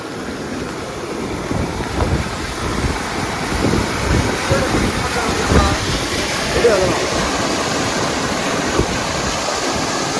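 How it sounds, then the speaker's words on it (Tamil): Rain and canal water rush together as floodwater during heavy rain in Thoothukudi, a constant loud roar with wind buffeting the microphone and faint voices now and then. "எந்த அளவுக்கு தண்ணி ஓடிக்கிட்டு இருக்கு பாருங்க மக்களே"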